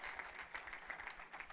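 Church congregation clapping together in a steady, fairly quiet burst of applause with a faint crowd murmur underneath.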